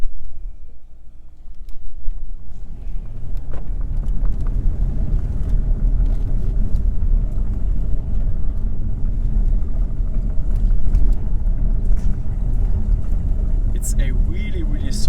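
BMW 750i V8 M Sport G12 sedan driving in sport mode, a low steady engine rumble with road noise heard from inside the cabin, building after a quieter start and holding constant, with a few faint clicks.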